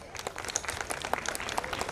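An audience at a school-style stage event claps to welcome young performers. The clapping is fairly faint and scattered, with a busy patter of individual claps across the whole short stretch.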